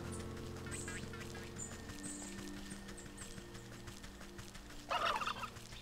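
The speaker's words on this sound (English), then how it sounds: "Where were the friggin' turkeys?" Turkeys gobble in the video game Wytchwood, several bursts of gobbling over a low game music bed, with a louder flurry near the end.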